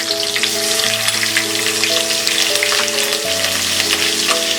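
Asafoetida, curry leaves and green chili fry in hot oil for a puffed-rice chivda, making a loud, continuous crackling sizzle heard close, with steady music playing underneath.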